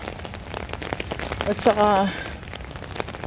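Rain falls steadily during an outdoor walk on a cold wet day, a soft continuous patter of drops on surfaces, briefly overtaken by someone speaking near the middle.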